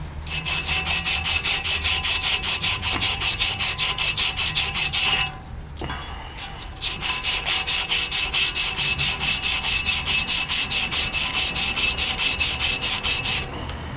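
Steady, loud rhythmic sanding on a pitted part from an air conditioning unit that is not cooling, fast regular strokes continuing throughout with one short pause near the middle, no talking.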